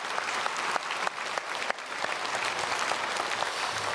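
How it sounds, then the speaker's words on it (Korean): A church congregation applauds in welcome during a Sunday worship service, a dense, steady wash of many hands clapping at close range, with a few sharper claps standing out early on. "우리 잠시 박수로 환영해 주시면 감사하겠습니다."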